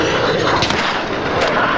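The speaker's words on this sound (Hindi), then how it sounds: "इतनी गोलियां कहां से चल रही है" Dense gunfire from a Call of Duty multiplayer match rattles loud and continuous, with sharp cracks standing out over steady battle noise.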